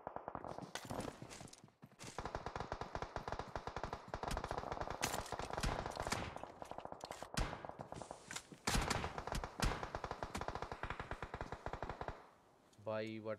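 Heavy automatic gunfire from a PUBG Mobile tournament match rattles in long rapid bursts nearly throughout, loud and close, with a brief lull partway and a short break near the end.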